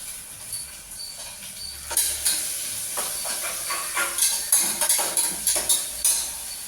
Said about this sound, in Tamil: கொஞ்சோண்டு பீன்ஸ் வச்சுருக்கேன், பீன்ஸ் போடுறேன்.